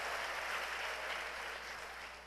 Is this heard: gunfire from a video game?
no